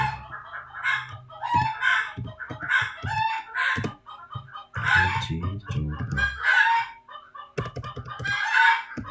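A hen clucks and cackles repeatedly nearby, in an agitated, uneven rhythm, with a few louder squawking bursts.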